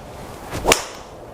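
A single sharp crack of a golf driver striking the ball, a brief swishing whoosh building just before it, then quiet.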